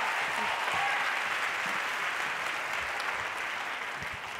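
Steady, even applause fills a conference mainstage hall, dense and sustained from a seated audience, tapering slightly toward the end.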